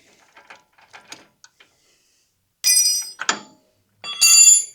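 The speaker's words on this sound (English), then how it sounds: "And now I can put my tool on here and tighten it up to the point where it's lined up again." Ratchet wrench tightening a brake hose fitting on a 1999 Ford Ranger: a few faint clicks, then two louder bursts of quick metallic ratcheting close up, with no talk.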